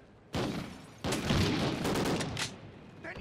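Dense video game gunfire surrounds the player in Call of Duty Ghosts: loud, close bursts of rapid shots and booms come in two main volleys that overlap and then fade.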